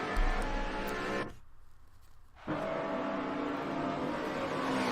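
Mercedes-Benz AMG GT4 race car in a racing video game crossing the finish line at Watkins Glen, a steady loud engine drone that drops out briefly for about a second, then resumes with a rising rev.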